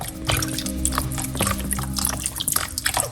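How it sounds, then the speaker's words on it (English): Apple cider vinegar pours from a bottle into a drink made with ginger and lime, a close, fairly loud trickling and splashing stream lasting a few seconds over a low background hum. "put a little bit of apple cider vinegar"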